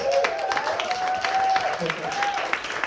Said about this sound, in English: Warm clap for Nicholas, guys.